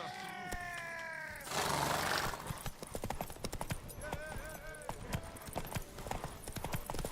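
Rhythmic hoofbeats clip-clop steadily, close and clear, in the video game The Witcher 3: Wild Hunt, with a horse's whinny at the start and a burst of noise and brief voices mixed in.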